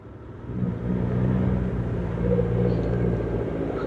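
A truck rumbles past on a badly damaged road, a low engine drone swelling quickly and holding steady at close range with a faint whir, no talk.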